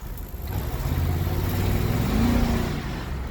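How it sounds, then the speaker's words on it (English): The V8 engine of a 1999 Cadillac Escalade revs loudly from inside the cabin during a night drive in Montreal, a deep steady roar that rises in pitch partway through. "You can't beat the sound of a V8, man."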